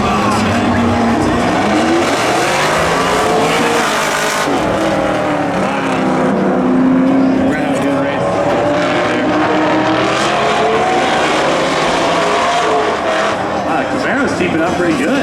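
Camaro and McLaren GT drag racing at a spectator event, engines roaring and sweeping upward as they accelerate, loud and continuous, with an announcer talking over the engine noise.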